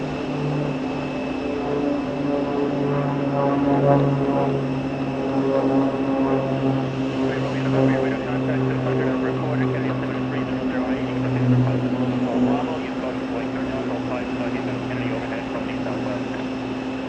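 An Uzbekistan airliner arrives at JFK airport, its engines giving a steady, distant roar and droning hum throughout, with a person talking over it at times.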